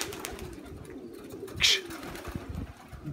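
Pigeons cooing in a loft or yard, a soft low bubbling coo with one brighter call or flutter standing out midway, close by over a steady background murmur.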